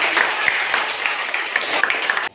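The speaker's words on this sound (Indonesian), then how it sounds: "Ya, tepuk tangan." A classroom of students claps briefly after a geography lesson, a short burst of dense, bright applause that cuts off abruptly.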